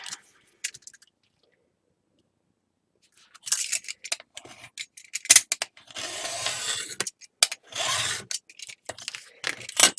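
A craft knife slices through paper while trimming hinge and page pieces for a winter mini album: close, short scraping strokes in irregular bursts after a mostly quiet opening.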